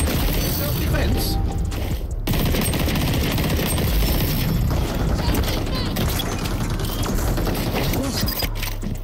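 A magazine reload in the video game XDefiant, a quick metallic clicking and ratcheting heard amid a dense, loud wash of ongoing battle noise and gunfire with faint voices.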